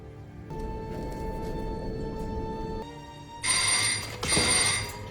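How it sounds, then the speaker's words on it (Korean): A telephone rings repeatedly in a tense thriller about a doctor captured by a human trafficking ring, a steady electronic ring tone that shifts into a brighter, louder ringing partway through, with no one speaking. "이때 또다시 울리는 전화."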